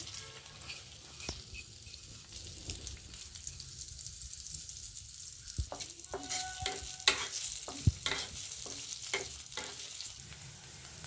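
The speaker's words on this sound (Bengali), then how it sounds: "তেলটা গরম হয়ে গেছে, এখন চালগুলো ছেড়ে দিচ্ছি।" Quiet frying hiss that grows busier as grains hit the hot oil, with occasional stirring scrapes and light clicks, close by.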